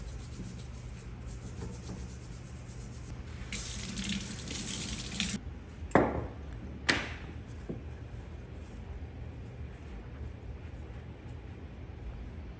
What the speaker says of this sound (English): I'm just gonna give it a little more scrub.